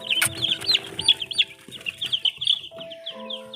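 Young chicks of a newly cross-bred hen breed with feathered feet peep and cheep in a rapid, overlapping chatter, close by and fairly soft, with faint shuffling beneath.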